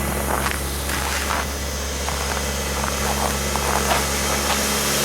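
A 1985 Honda Accord DX idles after a cold start at 5°F, its engine holding a steady low drone with a slightly rough, uneven pulse, close and continuous with faint clicks on top.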